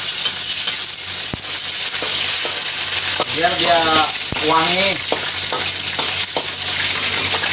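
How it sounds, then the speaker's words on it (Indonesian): Fresh mackerel frying in a pan with a loud, steady sizzle and crackle, close by, while someone talks briefly over it. "Kita akan goreng-gorengkan begini"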